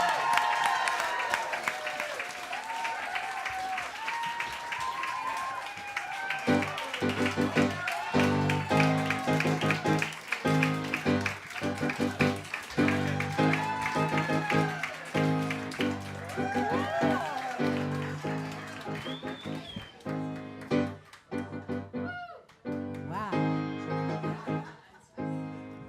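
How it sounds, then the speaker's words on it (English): An audience claps for Carol Sue Gershman in a cabaret room, with loud, dense, sustained applause running for most of the stretch and thinning out toward the end. "Give her a round of applause"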